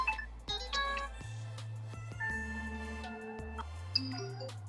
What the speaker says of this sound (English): There's your ringtones, so you can go through these.